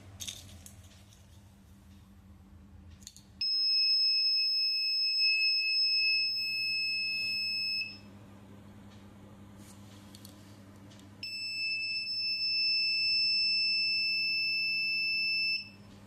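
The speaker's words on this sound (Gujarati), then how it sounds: "જ્યારે પણ કોઈ પણ વિદ્યાર્થી પસાર થશે તો બઝર ઓન થશે અને લાઇટ ઓન થશે." A school student monitoring system sounds a shrill electronic buzzer alarm in two sustained bursts of about four seconds each. Both are loud and steady over a low background hum, with no talking.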